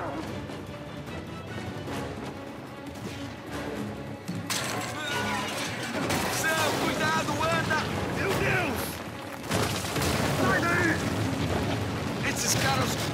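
Explosions and crashing booms in the Uncharted 4 video game, with several heavy blasts arriving in bursts over dense, continuous action noise and shouting game voices.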